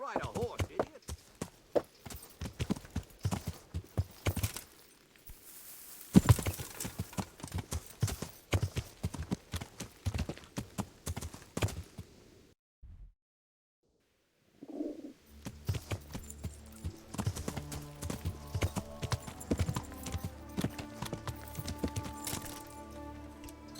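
Horse hooves clip-clop in a steady, quick rhythm during riding in Kingdom Come: Deliverance, with birds chirping behind. The hoofbeats stop for a brief silence, then give way to a layered game soundscape.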